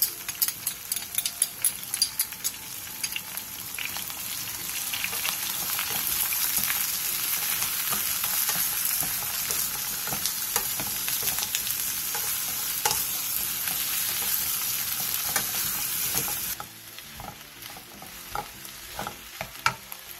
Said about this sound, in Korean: 팬에 기름을 두른 뒤 양파, 다진 마늘 1스푼, 굴소스 1스푼을 넣고 센 불에서 볶아주세요.